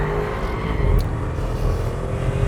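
A Bentley Bentayga V8 engine rumbles and pulls smoothly as the SUV accelerates, steady and moderately loud with a deep low drone and no talking.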